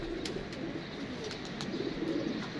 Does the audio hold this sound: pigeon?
yes